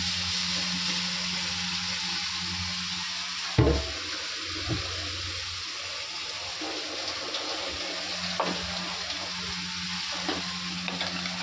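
Chopped onions and spices frying in a pan in a home kitchen, an even sizzle with occasional scrapes and knocks of stirring, close by and without speech.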